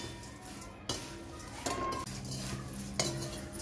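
Flattened rice (poha) with oil and turmeric being stirred in a pan on a low flame: soft scraping strokes and a few light clinks of the utensil against the pan, quiet and close.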